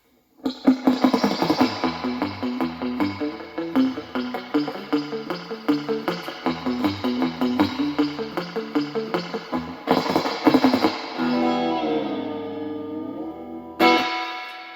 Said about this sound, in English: we got here the amp with just the reverb on full kind of drippiness